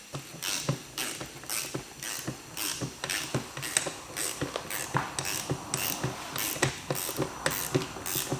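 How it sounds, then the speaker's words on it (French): A tyre bead breaker machine works steadily, giving off repeated mechanical clanks and creaks in a regular rhythm of roughly two per second, close and fairly loud with no talking. "C'est un détalonneur."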